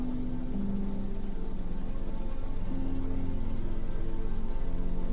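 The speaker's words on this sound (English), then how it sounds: "The sound of the rain is relaxing" Steady rain pattering against window glass, a dense continuous wash of soft taps with a faint low rumble underneath, even and unbroken throughout.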